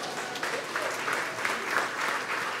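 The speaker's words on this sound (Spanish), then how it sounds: "Dense un fuerte aplauso." A congregation claps during a Sunday Mass. The applause is fairly soft and a little distant, rolling at a steady level for a couple of seconds.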